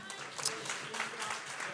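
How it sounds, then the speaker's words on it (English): A church congregation claps steadily during Sunday worship, a dense patter of applause from many hands filling a room. "So clap it up for Bright Star Community Outreach again, Health and Wellness Department, Destiny Eva"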